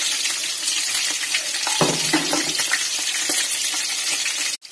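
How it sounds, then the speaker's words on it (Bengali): Fried chicken pieces hit a pan of frying masala, and a loud dense sizzle swells as they drop in, followed by stirring clatter under continuous close frying hiss. "এখন আমি আমার ভাজা চিকেনগুলোকে এর মধ্যে দিয়ে দেবো।"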